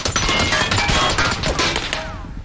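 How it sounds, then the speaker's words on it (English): Dense, continuous gunfire in PUBG striking a building's roof overhead, a close, loud clatter of rapid shots and impacts running unbroken throughout. "the shots are hitting my roof"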